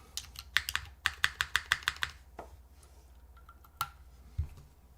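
Typing on a Sonoma keyboard fitted with Calligraphy switches: a quick run of crisp, close keystrokes in a steady rhythm, then a pause with a few scattered clacks and a thud toward the end, no speech.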